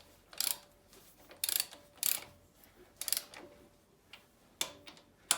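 A ratchet wrench with a 3/4 socket turning cylinder head bolts on a Land Rover Series 2A engine, giving quiet, close bursts of clicking ratchet strokes in an irregular rhythm with short pauses between.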